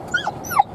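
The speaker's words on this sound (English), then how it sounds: "Good dog." A hunting dog on a South Dakota pheasant hunt gives two brief, high whimpers in quick succession, close by against faint outdoor background noise.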